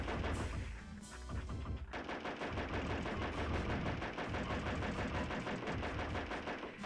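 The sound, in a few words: gunfire in PS1 video game Lone Soldier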